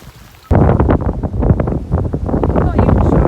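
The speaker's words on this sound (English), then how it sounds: "I'm not even sure if you'll be able to hear me today because it is very windy." Strong wind buffets the microphone on an exposed Peak District sheep farm during lambing season, a loud, continuous low rumble that rises abruptly after a quiet half second and stays gusty throughout.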